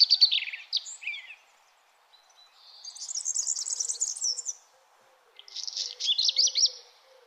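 Small birds chirp and twitter in three short bursts of high, quick notes, fairly faint, with near silence between them, in a garden growing dill and parsley.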